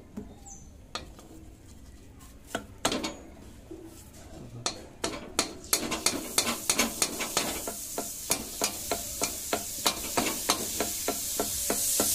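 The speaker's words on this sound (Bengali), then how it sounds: "এবার আমি মিহিদানা ভাজছি।" Close-up frying of mihidana sweet in hot oil, the sizzle growing louder, punctuated by quick, regular clicks and taps of a utensil stirring against the pan.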